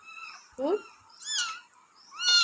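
A cat gives three short meows at close range while waiting for an achu murukku snack, the calls spaced about a second apart with quiet gaps between them.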